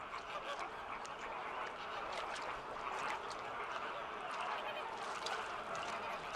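A large colony of Caribbean flamingos on the Cuban coast gives off a continuous din of overlapping honking calls, fairly distant and dense, with no single bird standing out.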